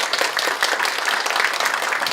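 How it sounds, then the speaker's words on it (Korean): An audience at a community forum in Gyeonggi breaks into dense, steady applause, many hands clapping together for a couple of seconds. "같이 박수로 시작하도록 하겠습니다."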